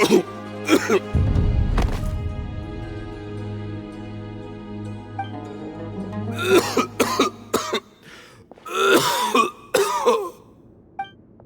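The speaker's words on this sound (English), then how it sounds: "Why is he coughing so much?" A character in Genshin Impact coughs in harsh bursts, a pair early and several clustered later, over a sustained musical drone, with a voice speaking between the fits.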